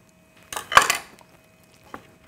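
A kitchen knife slices through a raw chicken leg for market-style Korean fried chicken, giving a short cluster of close cutting and scraping clatter against a board, then a single faint tap about a second later.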